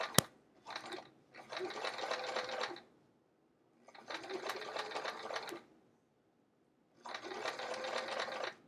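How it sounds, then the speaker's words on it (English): A sewing machine stitches handles onto a travel art folio in three steady bursts of rapid whirring, each running a second or two, separated by short pauses. "So while I sew, I'm just making sure that my fold"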